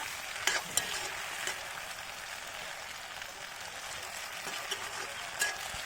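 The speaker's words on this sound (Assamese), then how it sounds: "বিলাহীখিনি দি অকণমান সময় ভাজি থাকিম" Chopped tomatoes frying in a pan for a local chicken curry: a soft, even sizzle with occasional light clicks and spatters of a utensil, fairly quiet and with no talking.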